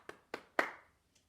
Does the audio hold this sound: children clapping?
yes